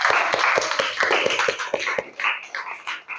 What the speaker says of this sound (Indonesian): berikan tepuk tangan untuk Elvira.